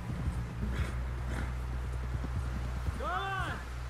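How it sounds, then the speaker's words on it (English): Horse hooves clip-clopping on the ground in the video game Red Dead Redemption 2, a steady close walking rhythm under a low music drone, ending with a short whinny-like cry. "Someone help John down off this horse"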